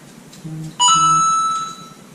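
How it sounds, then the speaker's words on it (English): A mobile phone rings during a hair extension felting session, a brief electronic tone rising to a steady bright ring that holds for about a second before fading, loud and close after a few soft lower tones. "I swear my phone goes off at every video."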